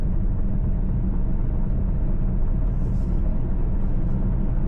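Steady low rumble of a Mercedes CLS 550 V8 while driving, a constant droning engine and road noise heard from inside the cabin with no talking.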